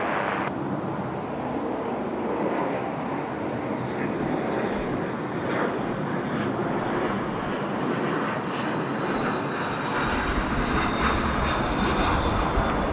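A Cathay Pacific jet landing on runway 16 right at Sydney Airport, a loud continuous roar of engines and rushing air that holds steady throughout, with no voices.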